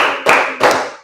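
A classroom of students claps in unison, two sharp group claps spaced about a third of a second apart, close and loud with no talking.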